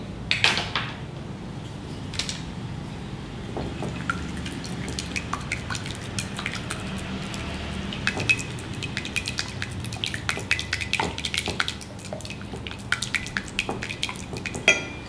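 A mixture is whisked in a bowl with steady, close clinks and light scraping that continue throughout, with no one talking.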